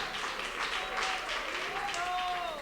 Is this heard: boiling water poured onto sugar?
no